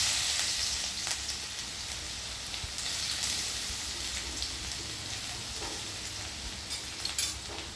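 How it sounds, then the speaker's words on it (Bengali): Chopped garlic fries in hot oil in a wok, a loud, dense crackling sizzle throughout with occasional light scraping as it is stirred. "এবার রসুন কুচিটা দেব।"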